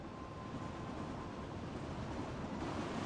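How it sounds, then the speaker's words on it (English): An empty train pulling into a town station in the video game Kingdom Hearts 2, heard as a steady, fairly quiet rolling rumble with a faint held tone and no speech. "The weird train."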